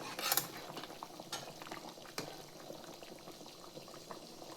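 Rice grits masala uppittu bubbling in a pot as it is stirred, with a sharp clatter of a utensil at the start and a soft, steady simmer and scraping throughout.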